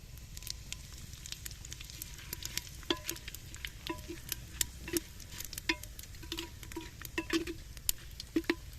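Bay leaves, dried chillies, garam masala and whole cumin crackle and sizzle in hot oil, with steady frying hiss broken by frequent sharp spits and pops and occasional stirring scrapes, close and continuous.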